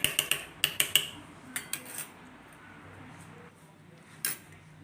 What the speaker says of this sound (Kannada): ಒಂದು ಸ್ಪೂನು ವ್ಯಾಸ್ಲಿನ್ ಹಾಕೋಣ ನೋಡಿ ವ್ಯಾಸ್ಲಿನ್ ಸೇರಿಸ್ತಾ ಇದ್ದೀನಿ